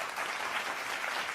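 Audience applause at a conference closing session, a steady dense wash of many hands clapping throughout, moderately distant and even in level, with no speech over it.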